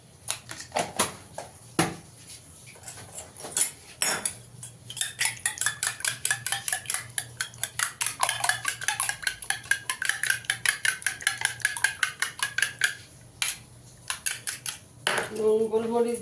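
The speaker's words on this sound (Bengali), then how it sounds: "নুন গোলমরিচ দিয়ে ডিমটাকে একটু ফেটিয়ে নিয়েছি" Eggs are beaten with salt and pepper in a bowl: a fork or whisk clinks rapidly and rhythmically against the side in a long run of quick, bright taps, with a few separate knocks before and a short voice near the end.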